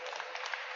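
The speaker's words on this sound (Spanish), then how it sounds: "Un aplauso, por favor" Applause from a church congregation during a talk about Jesus, a brief dense burst of clapping filling the space, steady and loud with no voices over it.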